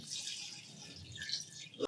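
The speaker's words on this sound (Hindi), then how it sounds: "यहाँ पर हम तकरीबन ½ लीटर पानी शामिल कर देंगे।" About half a litre of water is poured into a pot of mutton korma, making a steady, soft hiss of liquid with a brief louder splash at the very end.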